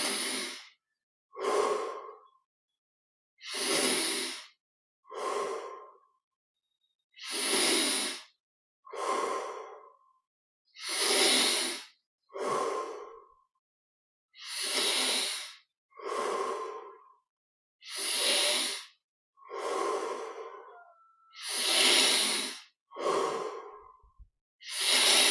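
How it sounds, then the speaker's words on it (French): Slow, deep breaths during a guided meditation, each long inhale followed by a long exhale in a steady, even rhythm. The breaths are close and clear, with silence between them and no talking. "Pour les 10 dernières respirations, prenons un peu plus d'oxygène à chaque fois."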